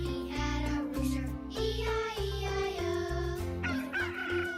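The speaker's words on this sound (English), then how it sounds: "On this farm he had a rooster" A cartoon rooster crows loudly over a bouncy children's farm-song backing of steady bass and melody, the crow rising and falling through the middle of the music.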